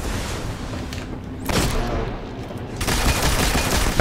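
Gunfire and explosions in the video game Destiny: House of Wolves, loud booming blasts and rapid shots in a thick roar that swells at two points, with faint talk underneath.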